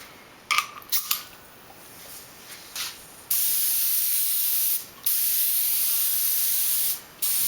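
An aerosol can spraying onto a composite model plane mold, a few short hissing bursts and then a long steady spray broken by two brief pauses, close and loud.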